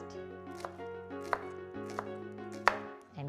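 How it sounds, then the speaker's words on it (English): A knife slices through a shallot on a cutting board with four or five sharp, evenly spaced taps, close and clear over a faint tonal background. "Now, onto our shallot. Thin sliced"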